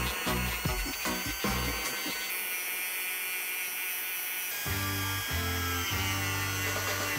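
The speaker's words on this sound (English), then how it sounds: "So using the Dremel, we're gonna rough it up right underneath the line that Jordon just created." A Dremel rotary tool roughening the leather upper of an Air Jordan 1 High sneaker: a high, tonal motor whine that shifts pitch and cuts in and out as the bit bears on the leather, close and loud.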